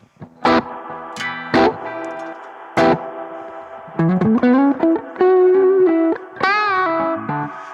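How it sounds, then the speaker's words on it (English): Guitar notes and chords ring out with a washy reverb tail from a BOSS GT-1000 Core effects unit, single plucks first, then a sustained bending phrase, loud and up close. "So let's just hear the reverb on its own."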